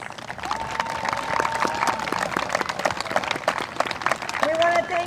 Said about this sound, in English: Please give another round of applause for these 6 well-deserving seniors